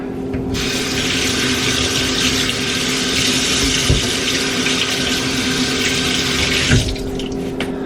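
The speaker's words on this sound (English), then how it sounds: "I gotta put some warm water on my hand." Warm water streams steadily from a tap over a hand at a sink, a close, continuous rush lasting several seconds, with two faint knocks partway through and no talk.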